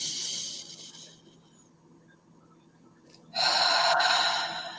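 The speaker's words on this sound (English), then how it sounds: "Exhale." A long, slow breath drawn and released, heard as a faint airy hiss that fades to near quiet before a louder, breathy rush of air comes close to the microphone near the end.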